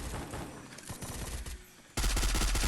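P90 gunfire in a video game, a steady rattle of rapid shots that grows abruptly louder partway through into a dense continuous burst, with no speech over it.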